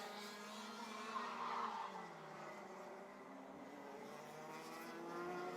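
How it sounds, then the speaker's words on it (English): A Rotax Heavy class racing kart engine at Warwick, running rough with a fault, buzzes steadily at a distance through the whole stretch, with other kart engines droning alongside. "I can hear from outside the commentary box that engine of Lane Moore there"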